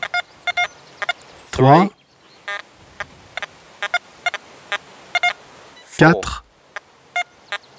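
XP Deus metal detector with its silencer setting gives short electronic target beeps in a steady rhythm, while a man counts aloud in French and two louder sweeping tones cut through.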